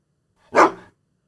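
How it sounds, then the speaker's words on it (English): A dog gives a single short, sharp bark in the background, brief and moderately loud against an otherwise silent backdrop. "Is that Wolfie barking in the background?"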